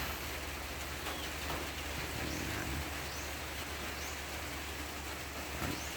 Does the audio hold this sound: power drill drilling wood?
no